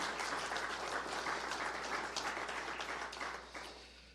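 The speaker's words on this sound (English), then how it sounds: "So big round of applause for all of you." Audience applause at a university athletics giving week kickoff, a dense sustained crowd clapping that holds steady and then tapers off toward the end, with no talking over it.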